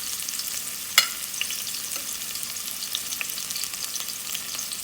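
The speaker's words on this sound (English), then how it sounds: "take off all the seasoning and put my oxtail in there" Seasoned oxtail hits a hot pot for a Jamaican oxtail recipe, giving a steady close sizzle and frying hiss with a sharp clatter near the start and a few small stirring knocks.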